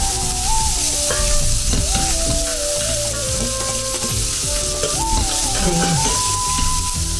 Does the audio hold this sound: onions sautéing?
yes